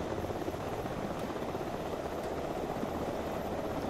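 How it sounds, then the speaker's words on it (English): Steady whirring helicopter rotor and engine noise in the ARMA 3 video game, a constant, fairly loud drone throughout with no speech. "They're at the front of the helicopter now."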